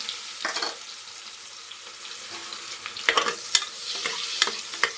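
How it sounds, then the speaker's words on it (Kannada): Onions sizzle in hot oil with cinnamon, cloves and bay leaf as the base of an egg biryani. A steady soft fry runs under the whole stretch, with a few louder stirring scrapes toward the end. "ಈರುಳ್ಳಿನೂ ಅಷ್ಟೇ ಸ್ವಲ್ಪ ಫ್ರೈ ಆಗಬೇಕು"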